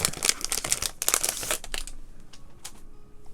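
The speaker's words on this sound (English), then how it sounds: "Sorry for all the crinkling" Plastic packaging crinkles in quick, close bursts during the unboxing of a set of Felissimo colored pencils, loud for a couple of seconds and then trailing off into softer, scattered rustles.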